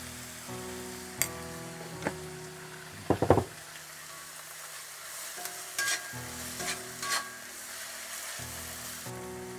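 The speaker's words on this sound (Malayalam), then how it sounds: "ഉള്ളി ഒന്ന് ചെറുതായിട്ട് വഴറ്റട്ടെ." Onions sauté with salt in a pan for mushroom mezhukkupuratti, giving a quiet, steady sizzle broken by a few scraping stirs, with no talk.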